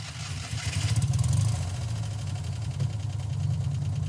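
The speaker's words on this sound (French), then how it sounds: "La Cinquecento vibre et le moteur démarre avec son ronronnement singulier" A classic Fiat Nuova 500 Cinquecento engine runs after starting, with a low, steady, purring idle and light mechanical clatter, heard quietly and alone.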